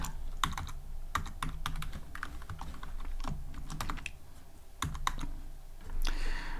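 Typing on a computer keyboard: a steady run of crisp, close key clicks with short pauses between bursts, with no voices heard.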